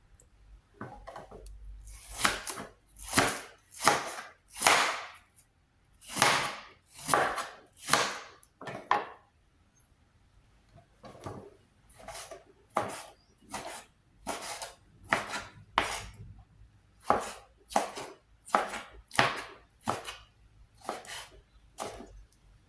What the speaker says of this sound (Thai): พริกนี่จะซอยใหญ่ๆ นะ